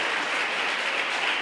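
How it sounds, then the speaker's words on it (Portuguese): Congregation applauding in a church service, a dense, steady wash of many hands clapping at once, loud and continuous with no talk over it. "Você pode aplaudir o Senhor?"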